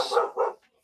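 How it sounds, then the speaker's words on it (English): A dog indoors barks at someone passing the front room window, two quick close barks in a row, then silence. "do excuse my dog."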